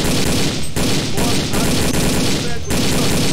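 Rapid bursts of automatic gunfire ring out in the video game Xenus: Boiling Point as partisans fire from near a vehicle, dense and loud with brief pauses between volleys.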